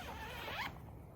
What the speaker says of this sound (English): It's on a big zipper, and these zippers are really thick,